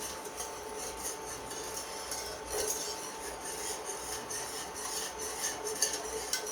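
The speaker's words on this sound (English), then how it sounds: "Stirring still." A spoon stirs no-bake cookie mixture made with monkfruit sweetener and almond milk in a pot, giving a faint, steady scraping and rubbing that keeps going without pause, with no talking.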